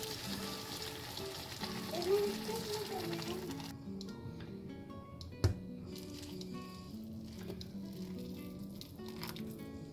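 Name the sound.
vegetable broth poured into hot pan, sizzling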